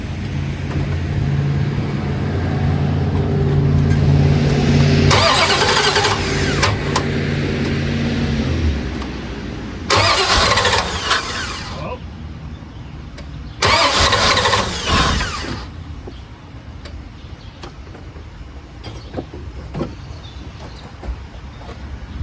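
A 1989 Corvette's engine cranks in three separate bursts of rapid starter whirring, each lasting a few seconds, without catching. Between attempts there are quieter stretches of mechanical noise, loud and close with no talk.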